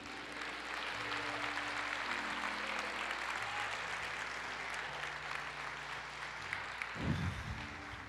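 Congregation applauding during a church worship service, a steady broadband clatter of clapping with a sustained low tone beneath it and a brief louder bump near the end.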